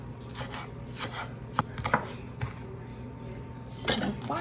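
Knife chopping fresh parsley on a cutting board in a home kitchen, a run of soft irregular close taps with a few sharper clacks, alone without talk.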